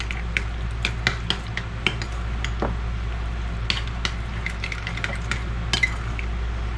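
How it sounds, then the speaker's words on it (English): Horseradish powder mixture stirred in a bowl, a busy run of close utensil clinks and scrapes against the dish over a steady low background hum. "And give it a good stir."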